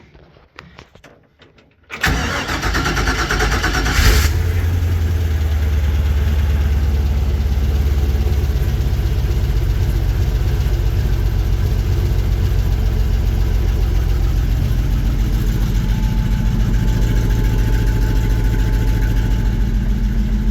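The engine of a 1954 Chevy 3100 pickup cranks and catches after a couple of seconds of quiet, then settles into a loud, steady, even idle that runs on alone.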